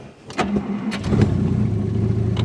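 An old Studebaker car, left sitting in a barn for 40 years, starts up and then runs with a steady, close, low engine rumble as it pulls away, with a few knocks and clatters early on.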